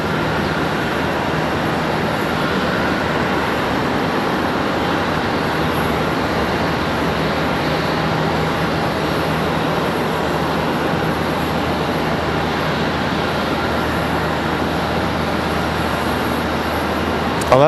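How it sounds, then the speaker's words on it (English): A Cessna Citation XL business jet from Dallas wearing a special livery passes at Charlotte Douglas International Airport, producing a steady, broad engine roar that holds at an even loudness throughout without any talk over it. "our Cessna Citation XL from Dallas"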